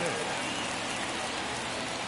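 Steady rain pours down at a baseball stadium in a PS4 baseball game between the New York Mets and St. Louis Cardinals, a dense continuous hiss without pauses.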